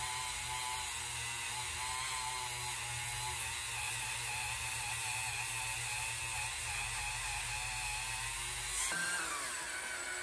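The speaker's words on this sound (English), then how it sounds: "I'm going to take it to the vise to hold it in place while I wire wheel all of the black residue" A wire wheel scrubs black residue off a metal casting piece clamped in a vise, giving a steady, even grinding whir that holds for about nine seconds and then winds down.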